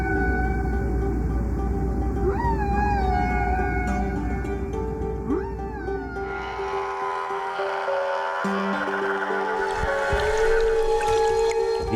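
Male humpback whales calling alone at sea, with long rising and falling moans and higher whistling tones that swell, hold and glide over a steady underwater rumble, with no voices present.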